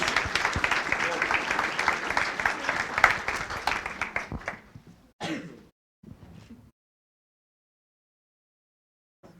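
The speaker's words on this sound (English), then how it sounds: "Let's give them one more round of applause." Applause from a board meeting audience, dense clapping for about four seconds that thins and fades to a few scattered claps, then near silence.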